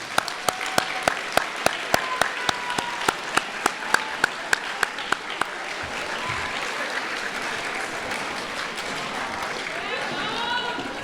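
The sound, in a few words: graduates applauding their families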